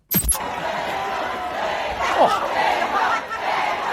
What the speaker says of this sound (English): Have a listen to them cheering him on.